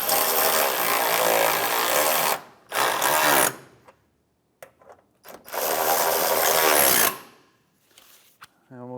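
Power driver tightening two 10mm bolts on the radiator of a 2011-2016 Hyundai Elantra, heard as two loud, close whirring runs separated by quiet gaps with a few small clicks.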